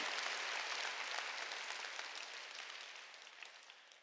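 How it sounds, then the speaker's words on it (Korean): A church congregation applauds during a Sunday worship service, a broad steady wash of clapping that slowly fades toward the end. "박수로 하나님께 영광 돌려야 되는 겁니다"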